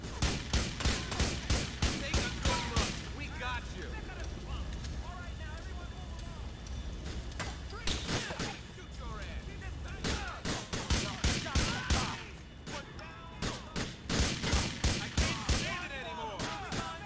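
In the video game GTA IV, loud rapid gunfire rattles in repeated bursts, near and sharp, with brief lulls between volleys and a voice talking over parts of it.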